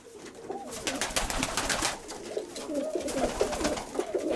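A single pigeon coos up close in a series of rolling, throaty calls, repeated several times in quick succession and clearly heard alone.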